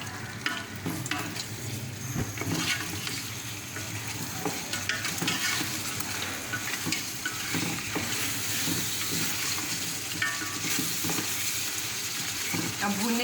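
Boiled mutton and potatoes sizzle and fry in a pot while a spoon stirs them, producing a steady crackle with repeated scraping and clinking close by.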